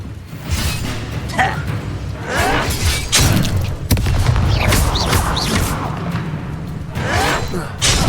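In the Hogwarts Legacy video game, the Incendio fire spell is cast in combat, producing repeated whooshing bursts and booming impacts layered over busy game effects and music.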